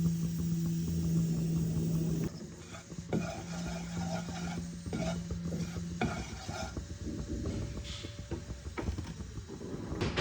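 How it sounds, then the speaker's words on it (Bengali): Mustard oil heating in a wok for cholar dal, with a steady frying sizzle throughout and clinking stirring and scraping of a utensil against the pan close by. "এবার দেখো আমি কড়াইতে অল্প সর্ষের তেল দিয়ে দিলাম।"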